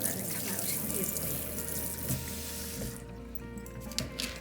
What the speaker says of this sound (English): We're going to take the hose here and we're going to spray some lukewarm water.